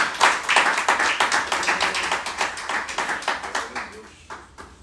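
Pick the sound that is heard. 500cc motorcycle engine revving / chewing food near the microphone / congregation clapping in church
congregation clapping in church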